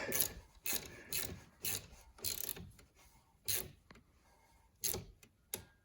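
A wrench ratchets in short, separate bursts while tightening the positive terminal on an Infiniti car battery, with quiet clicking and scraping between the strokes heard up close.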